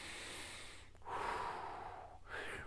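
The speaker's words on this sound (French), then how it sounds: "J'en profite pour pratiquer ma respiration." Controlled breathing during a stretching exercise for stress relief, a long airy inhale and exhale followed by another breath, close and soft with no talking.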